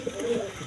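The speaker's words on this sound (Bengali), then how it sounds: "এই যে কোকাটা ডাকতেছে" A male pigeon gives a brief, low, soft coo, close by and fairly quiet, a single short rolling call with no talk over it.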